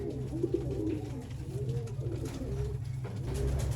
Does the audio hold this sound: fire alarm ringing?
no